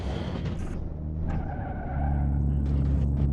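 A Satsuma 210 convertible in BeamNG.drive drones along with a steady engine hum, a brief tire squeal and skid breaking through early, then the engine note rises and strains louder as it climbs.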